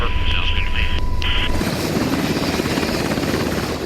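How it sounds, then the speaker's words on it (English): Steady, loud rotor and engine roar of a medevac helicopter in Afghanistan fills the whole clip, with a brief radio tone and chatter near the start. "Should be able to get the helicopter in there."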